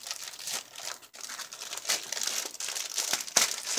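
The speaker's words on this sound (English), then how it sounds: "I'm going to have to tear this little topper" Thin plastic packaging is crinkled and torn open at the top, giving a continuous crisp crackle with a few sharper rips, close and fairly loud with no talking.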